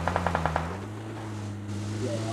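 Rapid burst of about six gunshots from a battle royale video game, evenly spaced and fairly loud, cutting off after half a second and leaving steady low game hum with a faint voice underneath.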